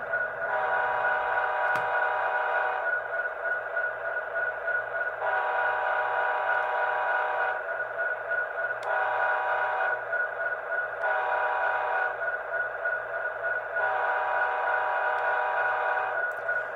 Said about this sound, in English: Here's the horn.